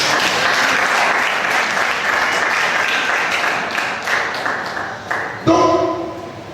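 Church congregation applauding and cheering together in a sustained, loud round of clapping, with a few voices calling out over the crowd before it breaks off into a sudden sharper burst near the end.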